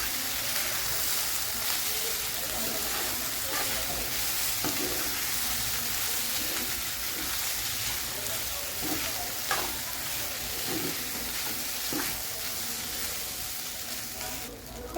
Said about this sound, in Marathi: तर आपण हा मिक्स करून घेतो.